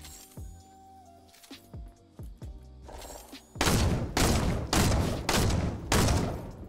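Gunfire in the Fortnite Battle Royale video game, with a string of five loud, evenly spaced booming shots after quieter clicks and thumps from the game, no talking.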